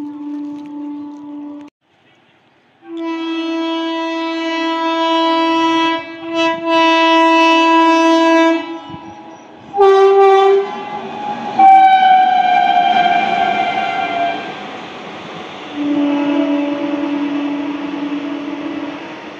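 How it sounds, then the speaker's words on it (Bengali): Balurghat–Kolkata Tebhaga Express hauled by a G9 locomotive, sounding its horn in long sustained blasts and a few shorter ones, loud and close, with the rumble of the passing train under the later honks. "বালুরঘাট কলকাতা তেভাগা এক্সপ্রেস সেই G9 নিয়ে চলছে"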